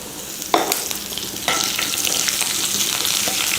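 Curry leaves crackle as they hit hot oil in a pan, two sharp bursts of spitting followed by a continuous close sizzle under light stirring.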